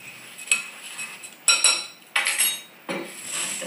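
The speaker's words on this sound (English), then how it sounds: "Just give this a little stir." A spoon stirs dry cookie ingredients (flour, baking soda, fine salt and cinnamon) in a bowl, giving a few sharp scrapes and clinks against the side, close and quiet, with short pauses between strokes.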